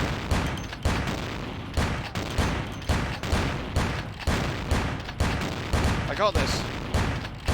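Gunfire rattles through a Vampire the Masquerade Bloodlines game session, with repeated sharp shots and bursts in an uneven rapid rhythm, loud and close, while a player speaks briefly over the shooting.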